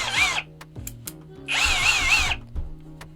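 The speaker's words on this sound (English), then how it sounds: "Got the hammer drill." XU1 18V cordless hammer drill running in two bursts, a short whirring spin followed by a longer one, loud and close with clicks and clatter in between.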